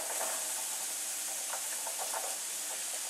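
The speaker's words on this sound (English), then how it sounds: "I'm going to take the eggplant and the zucchini and add it on there until browned." Eggplant and zucchini sizzle in an oiled pan, a steady close hiss filling the whole clip with small popping crackles scattered through it.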